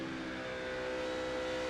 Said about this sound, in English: This changes the tune of the motor, and all he's doing is dragging the brake getting there